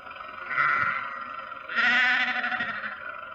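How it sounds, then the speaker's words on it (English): Sheep blocking a road bleat loudly in a radio drama sound effect, with a couple of nearby overlapping calls that swell and fade over a few seconds. "Confound that man with his sheep. Does he have to take up the entire road?"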